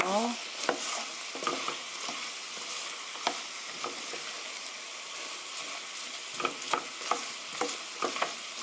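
Chicken spaghetti ingredients, including cabbage, are stirred in a pan, with soft sizzling and repeated scraping clicks of the utensil against the pan at an irregular pace, close and fairly quiet.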